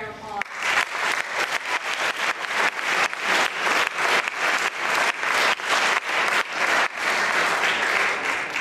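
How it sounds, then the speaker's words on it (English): A school assembly audience gives a sustained round of applause, loud dense clapping from many hands that continues steadily without pause. "So let's give another round of applause."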